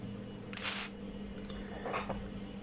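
A single short hissing burst of WD-40 spray aimed at a rotary switch, close and crisp, followed by faint clicks and a soft rustle in a quiet room.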